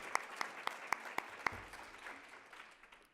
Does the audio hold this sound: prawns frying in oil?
no